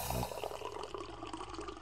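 Water poured onto a stained garment to lift a stain, a soft faint trickle and splash heard at close range and continuing without a break.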